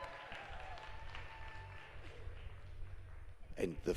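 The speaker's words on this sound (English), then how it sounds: "Big hand of applause for the red team" Applause for the runners-up team at an educators' skills workshop prize moment, a soft, distant spread of clapping beneath a low hum, with a voice breaking in near the end.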